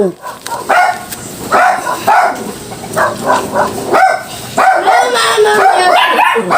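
A dog barks angrily and repeatedly, loud and close, with yips and whining between bursts and people talking in the background.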